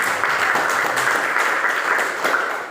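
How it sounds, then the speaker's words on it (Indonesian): Classroom of pupils clapping for a classmate, a steady dense patter of small hands lasting nearly three seconds at even loudness, close by. "Kita tepuk tangan dulu untuk Maxi."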